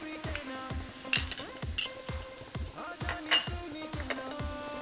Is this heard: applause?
no